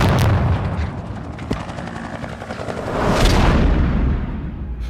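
A barn blown up as a practical film effect: a deep, rumbling blast rolls out with a sharp crack in the middle, followed by a swelling roar of noise that slowly fades.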